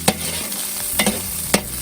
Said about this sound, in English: now I'm going to add the finely chopped garlic.